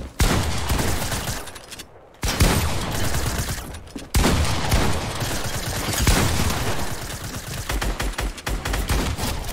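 Dense, rapid automatic gunfire from the Fortnite video game rattles almost continuously, loud and close, broken by two brief silent gaps before sustained bursts resume.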